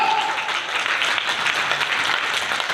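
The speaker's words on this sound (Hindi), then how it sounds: "इसके लिए एक बार जोरदार तालियां सभी के लिए हो जाए।" Dense, steady audience applause fills a business pre-launch event in Delhi NCR, with many hands clapping at once, close and loud throughout without letting up.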